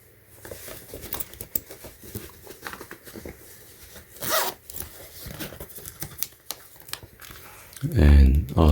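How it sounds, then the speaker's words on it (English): Close, crisp unzipping of the zipper pocket inside a canvas bag, heard as a series of rasping pulls among soft rustling and handling noises. "And on the inside there is a zipper"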